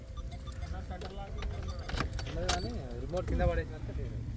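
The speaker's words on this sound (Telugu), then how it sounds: "తాలా చేయితోటి ఓపెన్ చేయి ఒకసారి" Keys jangle and clink as a key opens the boot of a 2012 Maruti Alto LXi petrol car, in several quick metallic bursts close by, while someone talks over them.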